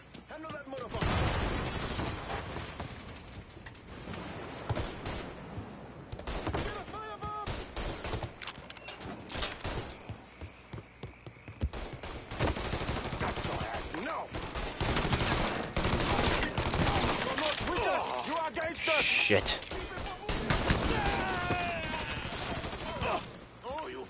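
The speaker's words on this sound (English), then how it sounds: "one's got a machine gun, the other one's got a shotgun" Machine gun and shotgun fire in Mafia 3, loud dense bursts of rapid shots mixed with heavier single blasts, with someone talking over parts of the gunfight.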